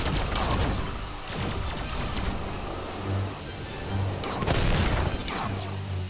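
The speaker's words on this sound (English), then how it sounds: "Try to launch a few missiles here and see if we get some hits." Missiles launched and striking a target in a space combat video game, with rumbling blasts over a constant noisy roar and a cluster of sharp, loud impacts near the end.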